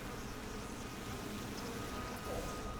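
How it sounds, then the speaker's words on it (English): Steady insect buzzing of bees in the online game The Lord of the Rings Online (LOTRO), a continuous dense drone lasting throughout at moderate level with no clear pauses. "getting stung by bees"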